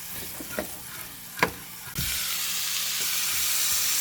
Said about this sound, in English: All you have to do is just mix that garlic butter in it.